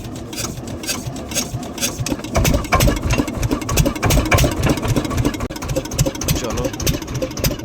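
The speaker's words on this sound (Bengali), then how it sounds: "বান্টি ভাই আমাদের এখন মেশিন স্টার্ট দিচ্ছে" A boat's motor on a river in the Sundarbans starts and settles into a steady, rapid chugging idle, close and fairly loud, with occasional faint voices behind it.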